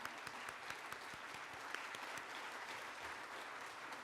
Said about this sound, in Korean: 힘찬 박수로 계속 축하해 주시기 바랍니다.